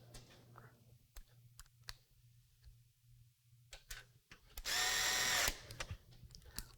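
A power screwdriver drives screws back in to secure a graphics card in a desktop PC, with small clicks and handling taps followed by a single loud, short whirring burst near the end.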